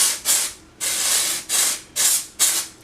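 A spray bottle of hair product hisses out five close, loud bursts in an uneven rhythm, one held longer than the rest, with a slightly sputtering spray. No voices are heard.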